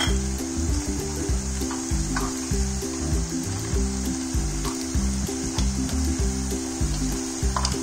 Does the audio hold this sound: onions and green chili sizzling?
yes